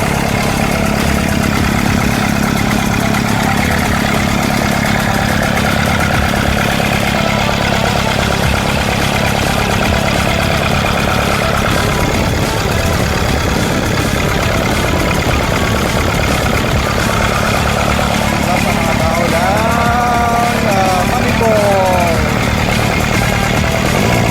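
Diesel idle of a Mitsubishi Pajero 4M41 engine at about 1000 RPM with a converted injection pump, a steady low rumbling drone that runs throughout, close and loud, with faint voices in the background.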